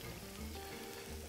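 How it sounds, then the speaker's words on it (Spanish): Onion and shrimp batter fritters frying in hot oil, giving a steady, dense crackle and sizzle that holds evenly through the short moment with no pauses. "porque está friendo constantemente"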